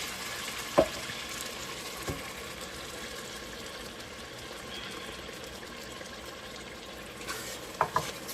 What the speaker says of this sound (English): you gotta stir this because you see that starting to stick because of that tomato paste.